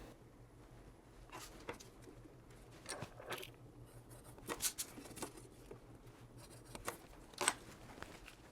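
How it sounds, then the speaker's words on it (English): Scissors snip the paper detail wrap for a 1/100 scale Estes Saturn V model rocket, giving faint, close, irregular cuts and paper rustles over a quiet room hum. "we cut the ends of the wrap, we'll want to cut each end just a hair long"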